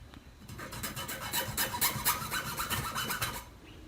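A file rasps a bevel onto a tiny pipe for a scratch-built 1/64 scale IH 9670 semi truck model, with a run of quick, close, rhythmic back-and-forth strokes heard alone.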